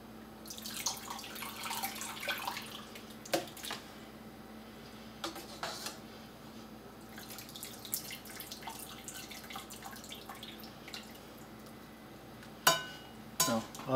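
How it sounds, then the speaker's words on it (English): Whey and curds are ladled from a pot into a colander while making homemade mozzarella, giving quiet intermittent splashes, drips and trickles with soft clinks of the ladle, close and fairly faint. "So it's time to start ladling it out, putting it into our colander."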